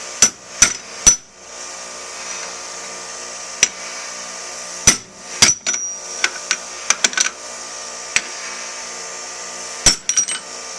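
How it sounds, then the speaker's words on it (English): Sharp metallic hammer blows ring out close by as a Jeep part held in a vise is struck, a dozen or so irregular strikes with pauses between, some in quick clusters, over faint background hiss. "take it over here to the vise and get your old trusty hammer"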